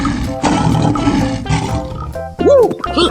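A cartoon lion roars in a 3D animal slide game, a loud gritty roar over busy game music, followed by a quick swooping electronic effect.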